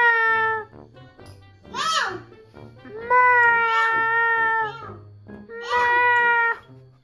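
Several loud, drawn-out cat meows come close to the mic in three or four separate bursts, with some low background noise and a voice that sounds childlike.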